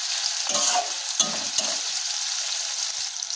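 Onions salted and frying in a hot pan for a mutton curry, with a steady bright sizzle and a few scraping stirs of a spoon near the start, close and continuous with nobody speaking.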